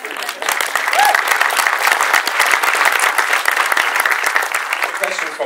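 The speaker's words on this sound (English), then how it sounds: "You can applaud" Loud, dense applause fills a Berlinale 2014 film press conference room, a continuous close wash of clapping from the gathered journalists.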